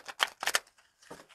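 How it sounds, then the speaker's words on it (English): A deck of tarot cards being shuffled by hand, several quick crisp riffling bursts close up, separated by brief pauses, with a final softer flutter of cards. "I want a good shuffle. Give me a good shuffle."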